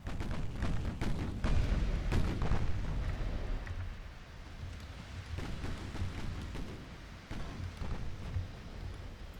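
Battleship 6-inch guns firing in the naval game Ultimate Admiral Dreadnoughts: repeated heavy booms with rumbling tails, several shots close together early and then spaced out, moderately loud throughout.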